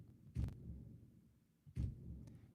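Stomp percussion sample with dark reverb and the mids EQ'd out, hitting twice as deep, muffled thumps. Each is followed by a low, lingering rumble, heard alone.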